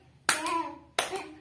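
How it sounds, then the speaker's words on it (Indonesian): Two sharp hand claps about 0.7 seconds apart, keeping time with a children's sing-along song, with a voice singing between them. "Kalau kau suka hati tepuk tangan"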